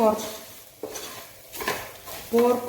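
Pork and spices being stirred in a pan, with a spoon scraping and clinking against the metal at irregular intervals over a faint sizzle, close and fairly loud with no talking.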